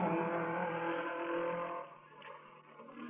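A 1957 Formula 1 race car at the Goodwood Glover Trophy roars past, a loud, sustained engine drone that eases slightly and wavers over its final second.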